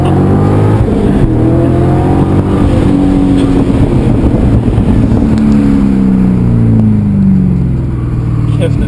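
A Chevrolet C06 race car accelerates hard at Jyllandsringen, its loud engine climbing through the revs in long sweeping pulls close by.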